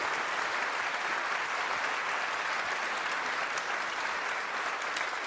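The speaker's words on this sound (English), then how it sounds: "Maybe we give them a round of applause." At an outdoor arts live-streamed event, an audience gives sustained, even applause, a dense patter of many hands at moderate distance, unbroken for several seconds.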